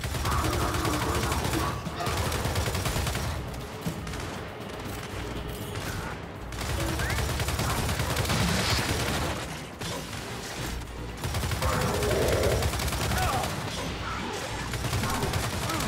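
Gunfire in the video game Gears 5 during a camp assault: dense, sustained bursts of automatic shooting with mechanical clatter, nearly continuous for the whole stretch with brief lulls.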